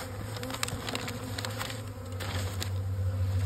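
A steady drone of many honey bees buzzing around a small spring hive cluster, close and continuous, with faint clicks and taps scattered through the buzz.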